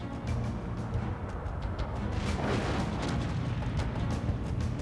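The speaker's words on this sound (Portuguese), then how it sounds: "uma série de 4 enormes explosões sacudiram a Terra" Enormous volcanic explosions of Krakatoa rumble as a continuous, loud, dense roar with deep booming low end and scattered bursts throughout, no voices.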